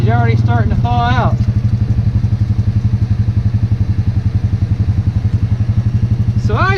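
A Honda Pioneer 500 utility vehicle engine runs at a steady idle close by, with a loud, even pulsing chug throughout and brief vocal sounds near the start and end.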